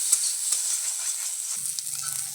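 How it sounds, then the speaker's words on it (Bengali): Food sizzles steadily in a pan while it is stirred with salt and turmeric, a soft, continuous frying hiss with light scraping, close by and with no talk. "তো এবারে নুন আর হলুদ দিয়ে একটু নাড়াচাড়া করে নেব, সামান্য একটু ভাজা ভাজা করে নেব।"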